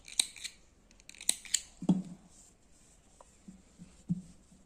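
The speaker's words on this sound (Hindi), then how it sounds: "और यहाँ से आप इसे काट दीजिए।" Several crisp snips of scissors cut through fabric for a baby's turban cap, close and sharp, in separate bursts with quiet pauses between them.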